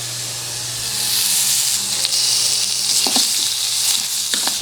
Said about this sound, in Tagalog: Lagyan na natin yung taba.